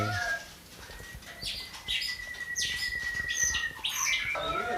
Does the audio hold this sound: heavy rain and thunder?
no